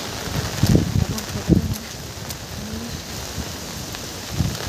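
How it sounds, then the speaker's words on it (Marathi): Steady heavy morning rain hisses across the whole stretch with a few heavier thumps and rustles, fairly close and continuous, no voices. "खूप पाऊस चालू आहे. दाखवते पाऊस चालू आहे बघा किती जोरात."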